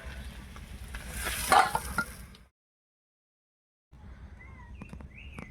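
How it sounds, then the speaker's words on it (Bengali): Potatoes with turmeric powder sizzle in hot oil, a close, steady frying hiss with faint stirring, cut by a silent gap, then quieter noise with a few distant bird chirps. "সামান্য হলুদ গুঁড়ো দিয়ে আলুগুলো ভেজে নেব"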